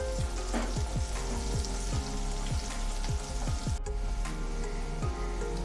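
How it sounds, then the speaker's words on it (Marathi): Carrots, peas and cashew pieces sautéing on full heat for sevai upma, a continuous sizzle with repeated scraping strokes of a spoon stirring in the pan, no voices. "गाजर आणि मटार यामध्ये टाकूया आणि 1 ते 2 मिनिटं आपण फुल गॅसवरती हे छान परतून घेऊया।"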